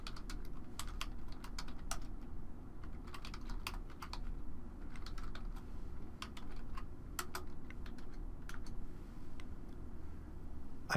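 Steady clicking of keys on a computer keyboard as an address is typed into a form field, close and continuous with irregular rhythm over a low background hum.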